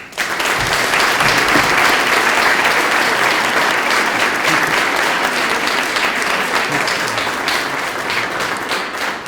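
Dense, sustained applause from a large audience at a business awards evening honoring the Champions of the New Economy, steady and loud for the whole stretch with a faint murmur of voices beneath.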